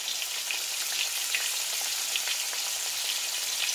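Corn-flour-coated catfish frying in hot grease on a homestead, a steady bright sizzle and crackle with small popping bursts, close and continuous with no talking.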